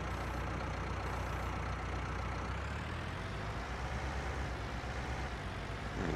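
Tractor engine idling in the video game Farming Simulator 19 during snowy Seasons play with a bucket attachment: a steady low diesel rumble that continues evenly, with a slight shift in tone partway through.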